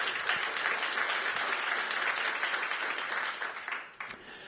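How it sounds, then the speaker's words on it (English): A conference audience claps together in a sustained, dense round of applause that stays strong, then thins and tapers off near the end. "Let's give them a round of applause."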